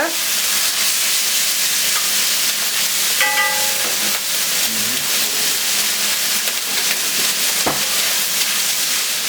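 Steady, dense sizzling of bacon frying in a hot pan, loud and continuous throughout, with a brief clatter near the middle.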